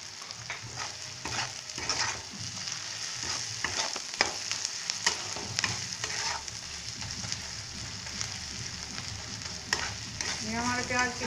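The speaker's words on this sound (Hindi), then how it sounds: "ये हमारे प्याज कितने अच्छे से भून रहे हैं।" Chopped onions with a little salt and sugar frying in a pan for matar paneer, a continuous sizzle with frequent stirring scrapes and utensil knocks, fairly quiet and close, with no talking.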